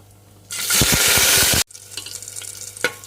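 Mustard seeds, cumin and garlic drop into hot oil for a tempering, setting off a sudden loud, crackling sizzle that holds for about a second before cutting out, followed by a quieter sputter and a few close pops.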